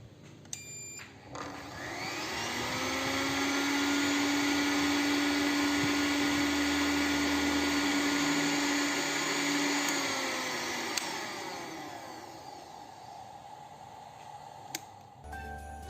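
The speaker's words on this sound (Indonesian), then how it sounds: "Sekarang kita akan mencoba ke blender" An electric blender powered through an inverter from a home solar panel setup whirs steadily and loudly for about ten seconds, spinning up and winding back down, with no talking.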